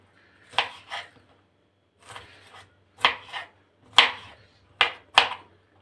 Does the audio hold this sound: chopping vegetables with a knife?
yes